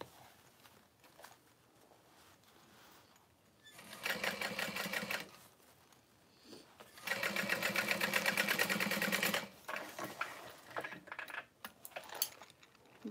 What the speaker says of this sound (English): I'm gonna baste it into place